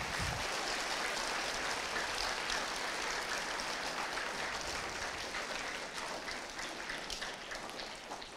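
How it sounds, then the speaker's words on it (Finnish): An audience at a football season-ending celebration applauds goalkeeper Kerttu Karresmaa, sustained clapping from many hands that holds steady and then slowly thins toward the end, heard from a middle distance. "Voidaan antaa Kertullekin tässä aplodi."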